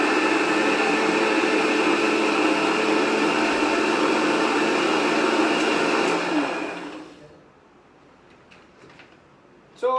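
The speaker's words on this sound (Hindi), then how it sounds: "But I will just blend it one more time to make it just fine paste." A kitchen blender whirs loudly and steadily as it purees green onion into a fine paste, then switches off around seven seconds in, leaving a quiet room with faint clicks.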